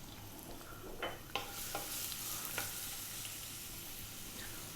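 Garlic and ginger stir-frying in sunflower oil in a wok over high heat: a steady, fairly quiet sizzle with a few sharp scraping stirs near the start and middle, no talking.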